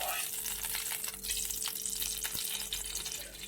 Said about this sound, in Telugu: ఫస్ట్ అయితే ఎగ్ ఫ్రై చేసుకోవడానికి సరిపడినంత ఆయిల్ వేద్దాం